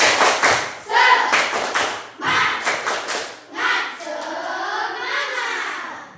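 A group claps in a rhythmic pattern, bursts of patterned clapping alternating with short pauses, and children's voices shout along in chant-like calls.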